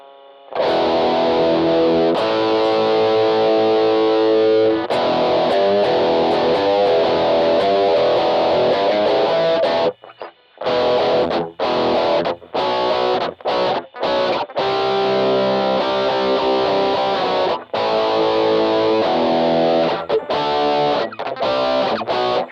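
Electric guitar played through an MXR Rockman X100 pedal on its distortion setting, loud sustained chords and notes with brief gaps and choppy stops partway through.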